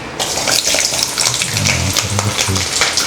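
Garlic hits hot oil in a pan for a dried spiny-tailed fish curry, raising a loud, close, continuous frying sizzle that bubbles and spits throughout.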